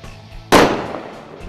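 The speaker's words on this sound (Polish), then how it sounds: "Aby wystrzelić racę," A single sharp, loud bang as a flare is fired from a Zoraki K-6L blank revolver, followed by a short fading whoosh and echo.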